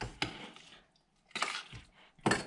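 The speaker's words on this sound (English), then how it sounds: "Stir it around." Chilli being stirred in a pot, three separate scraping clinks of a utensil against the pot, close and quiet, with gaps of silence between them.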